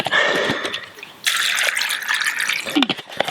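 Marsh samphire, a foraged wild plant, is rinsed in water: close splashing and dripping, with a sudden louder rush of pouring water partway through, then trickles and drips.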